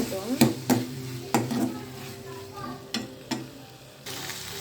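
Chopped tomatoes cook in a pan for egg kurma, a soft sizzle punctuated by several sharp scrapes and clinks of a spoon stirring against the pan, close by.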